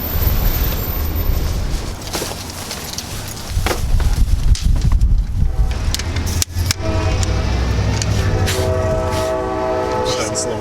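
A train rumbles past nearby with clattering wheels, followed by a sustained horn blast; voices can be heard briefly.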